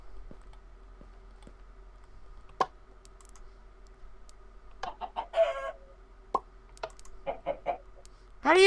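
Minecraft chickens cluck in a video game, with short clucking bursts and squawks over a steady low hum and scattered clicks, growing louder near the end.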